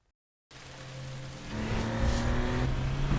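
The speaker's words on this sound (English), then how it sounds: "Knowing that a little rain won't slow down your day." Car on wet pavement in rain for a tire advert, a steady hiss of water spray building as the engine hums and rises in pitch while the car passes close and accelerates.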